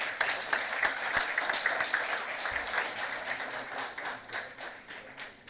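A conference hall audience at an insolvency professionals' convention gives a sustained round of applause as a memento is presented, dense steady clapping that continues for several seconds without talk.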